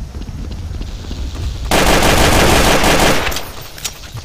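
Sustained automatic gunfire in Counter-Strike: Source breaks in abruptly as a loud, dense burst that runs for over a second, then cuts off, leaving a few scattered shots behind.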